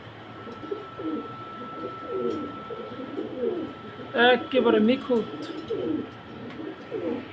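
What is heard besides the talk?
pigeons cooing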